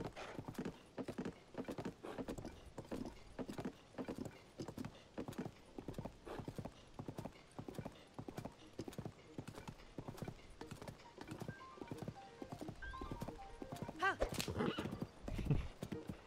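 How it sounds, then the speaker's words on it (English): Horse galloping in Zelda: Tears of the Kingdom, a steady rapid run of hoofbeat clip-clops with a whinny near the end, rain falling in the game and no talk over it. "The gentle calm of just riding your horse."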